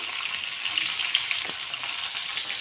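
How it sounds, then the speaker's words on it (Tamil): Bitter gourd frying in a pan of oil, a steady high crackling sizzle with small popping spikes, close and alone. "நல்லா ஃப்ரை பண்ணிக்கோங்க நல்லா ஃப்ரை ஆகணும் பாவக்காய்"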